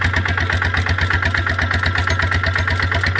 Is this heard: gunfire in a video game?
no